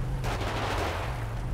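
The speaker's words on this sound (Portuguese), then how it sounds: "Que é esse tiro?" Gunfire in GTA 5 roleplay during a police raid on a favela, a dense continuous burst of shots that sounds sustained and rumbling, with a steady low hum underneath and no talking.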